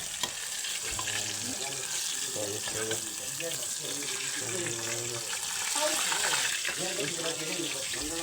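Meat frying in hot oil in a pan, a steady close sizzle throughout with some clattering and water-like sounds, and faint voices in the background.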